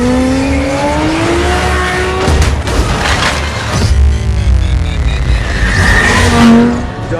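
A supercar built in Dubai roars and skids in a film scene, with loud engine tones rising and falling, tire squeal and a heavy impact-like burst near the middle, over continuous music-like harmonic layers.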